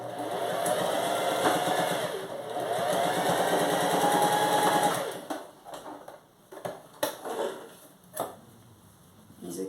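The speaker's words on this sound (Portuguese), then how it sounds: "é só fazer uma costura e dar retrocesso no começo e no final da costura" A sewing machine stitches fabric for a dish towel basket, running in a fast, steady whir for about five seconds, then giving a few short bursts and clicks as the seam is backstitched, close up.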